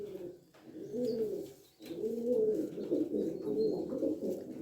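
Pigeon cooing in a loud, near, continuous run of low throaty coos, broken by a short pause, from fancy flying pigeons kept by a breeder.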